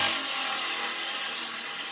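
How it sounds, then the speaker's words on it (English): A hole saw grinds through fiberglass on a VW Baja Bug, a steady, close, abrasive rasp that fades slightly over a couple of seconds without talk. "this is not the right hole saw to use. It will cut fiberglass"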